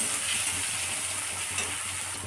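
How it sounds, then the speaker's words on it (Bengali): Onions fry in a pan with a soft, continuous sizzle and occasional stirring scrapes, fairly quiet and steady throughout, no speech. "পেঁয়াজটা দেখো ভাজা ভাজা হয়ে গেছে।"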